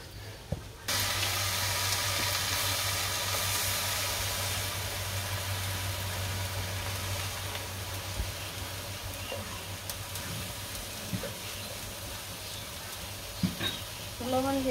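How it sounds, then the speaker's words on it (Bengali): Leafy greens fry in a hot pan with a continuous loud sizzle that starts suddenly and slowly eases off. Faint clatter and brief voices are heard toward the end. "শাক ভাজা দেব।"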